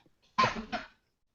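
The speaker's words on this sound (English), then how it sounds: "Sorry, I have a bit of a coughing issue right now." A single close cough, two quick harsh bursts, alone in an otherwise quiet moment during a Sharks at Devils hockey broadcast.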